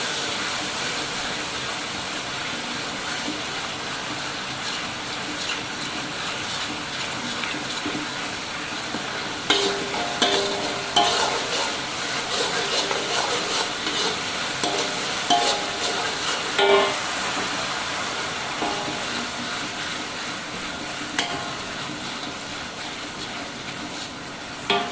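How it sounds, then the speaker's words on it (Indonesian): Spice paste being sautéed in a pan while cooking salted fish, a steady close sizzle and hiss with scraping stirring clatter through the middle, no talking. "ini lagi ngegangsa bumbu"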